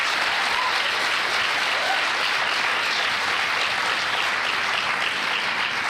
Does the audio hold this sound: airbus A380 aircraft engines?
no